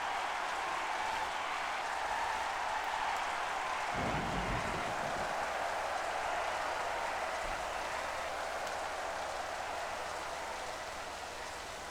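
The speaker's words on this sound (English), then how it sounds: "Quite rainy." Steady broadband rain hiss during a race at Imola in Formula 1 Championship Edition (1997), continuous and fairly loud, with a brief low rumble swelling midway, likely thunder.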